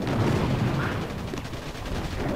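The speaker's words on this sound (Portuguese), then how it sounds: "Aqui cada tiro desse canhão boom era uma tropa aqui" Boom cannon shots roar through a battle in the mobile strategy game Boom Beach, as dense, continuous booming gunfire mixed with other battle effects fills the whole stretch at steady loudness.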